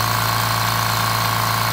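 An air compressor running off a Jackery solar power station with a quiet generator, a steady continuous mechanical hum with a low engine-like drone, close and constant throughout.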